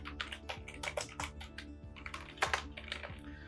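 Rapid typing on a computer keyboard while entering text in a font tool, with close, crisp key clicks in an uneven, continuous rhythm and no talking.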